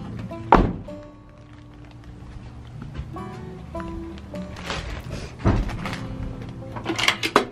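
The door of a newly moved-into little cottage being closed: a few sharp, close wooden thuds spaced apart, with faint household noise in between.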